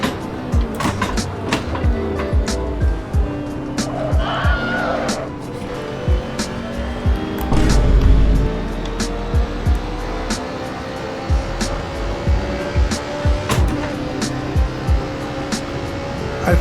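A race car in Assetto Corsa, driven with an H-pattern shifter, clutch and heel-and-toe downshifts: engine revs rise and fall through repeated gear changes, with sharp clicks and bursts of tire squeal, loud and steady throughout.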